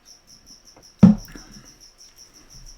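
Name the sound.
cricket chirping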